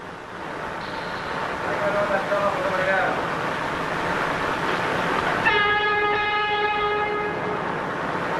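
A New York subway local train rumbles into the Lexington Avenue and 42nd Street station with a steady roar, then a loud horn blares partway through and holds as the train keeps rolling.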